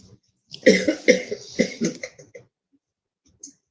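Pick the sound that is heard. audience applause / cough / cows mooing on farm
cough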